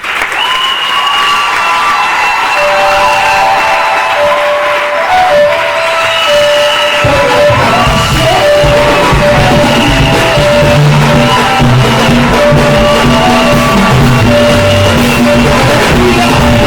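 A large crowd applauds and cheers in a church-style gathering, sustained dense clapping with scattered shouts and whoops, loud and continuous throughout, thickening after the first few seconds with music-like tones underneath.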